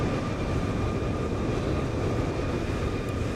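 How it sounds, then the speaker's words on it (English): Boeing 787 Dreamliner approaching at Frankfurt airport in Microsoft Flight Simulator 2020, a steady broad jet roar with faint whining tones, holding constant and fairly loud throughout. "The Dreamliner coming towards us."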